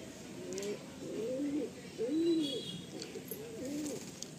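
Kalanka pigeons in a loft give repeated soft, throaty coos in a rolling rhythm, fairly quiet and close, with a faint background hiss and no talking.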